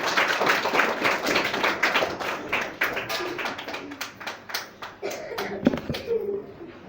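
A church congregation claps along together during a Christmas service, a busy run of handclaps with a steady rhythm mixed with a few voices and taps, fading toward the end.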